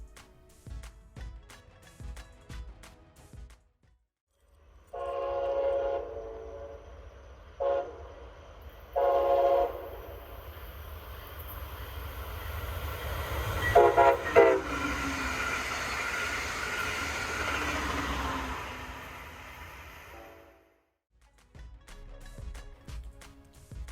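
A Brightline construction-period crew qualification test train heads south past a trackside spot, giving several loud horn blasts over a rising roar. The sound fades between blasts and drops away as the train clears, with no talk.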